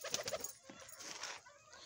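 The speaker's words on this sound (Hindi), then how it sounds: "चलें जी अब कबूतर निकालते हैं" Pigeons coo softly and flutter as they are released from their cage, a faint close cluster of calls and wing sounds with no speech.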